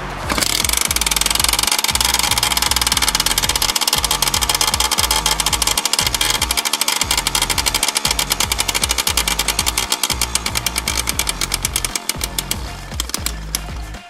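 Suzuki JR50 dirt bike's small two-stroke engine runs on choke, a loud, close, continuous rapid buzzing putter with slight uneven stumbles throughout.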